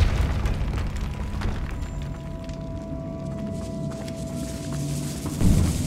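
Depulso force spell cast in the Hogwarts Legacy video game, a low booming burst over a rumbling game ambience with a steady hum, a second thump near the end.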